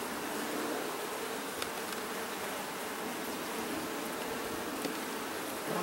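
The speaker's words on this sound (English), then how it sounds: "There's always a bee sitting right where I want to put my fingers." Honey bees buzz around an open hive, a dense, continuous, moderately loud drone with no pauses and almost no talk.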